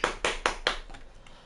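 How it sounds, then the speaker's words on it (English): Four sharp hand claps in a steady rhythm, close and fairly crisp, followed by a fading softer clap as the sequence trails off. "Everybody clap your hands."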